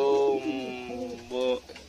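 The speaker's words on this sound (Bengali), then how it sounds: "নিচে নিচে একটা ধাড়ি পায়রা আছে, তো যে ডাক দিচ্ছে" An adult pigeon coos nearby on a rooftop in a deep, throaty call that repeats, rising and falling in two bursts.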